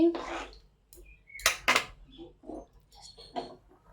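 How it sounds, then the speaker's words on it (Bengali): A spoon clanks and scrapes against a metal pot while basanti pulao is stirred, giving a few sharp metallic knocks between quieter scrapes, with a voice talking throughout. "দেখুন বন্ধুরা যে ভালো করে নেড়ে চেড়ে নিচ্ছি"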